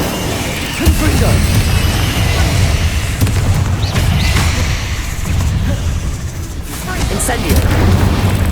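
Fire and blast spells burst repeatedly in Hogwarts Legacy combat, loud booms and crackling impacts that pile up densely over several seconds amid busy game mechanics and shouted casting.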